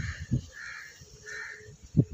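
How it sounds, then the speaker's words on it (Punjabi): Crows caw outdoors, several harsh calls spaced across the moment, fairly faint and somewhat distant, with no talk. "ਆਹ ਵੇਖੋ ਕਾਂ ਇਹ ਵੀ ਲੱਗੇ ਫਿਰਦੇ ਨੇ"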